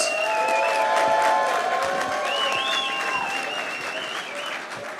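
A crowd at a grappling event applauds and cheers loudly, with whistles over steady clapping that fades slightly over five seconds.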